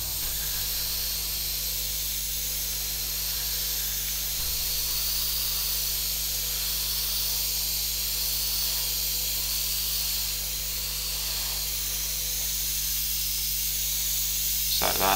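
Red spray paint hisses steadily from a can onto the hull of a Hasegawa 1/450 scale IJN Akagi model ship, a constant close hiss over a low hum.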